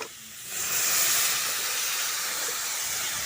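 Water poured into a hot pan of fried rice flour erupts into a loud, hissing burst of steam and sizzle after a brief quieter moment, then holds steady and dense for several seconds.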